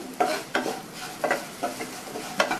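A spoon stirs and mixes salted ingredients in a hot pan on the stove, giving close scraping strokes in a steady rhythm over a soft sizzle.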